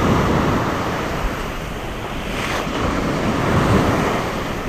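Ocean surf washing steadily onto a fishing beach at dusk, a continuous broad roar of breaking waves with wind buffeting the microphone, no voices.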